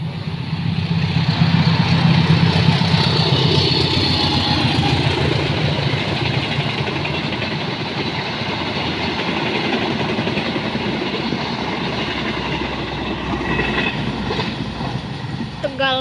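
At night in Tambun, West Java, a train rumbles past nearby with a steady, loud roar of wheels and rail noise that persists throughout and eases slightly toward the end.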